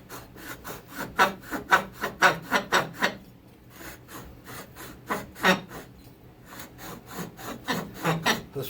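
A 372xp base being cut by hand gives off rapid, rhythmic scraping strokes with a chattering edge, coming in close bursts separated by brief pauses.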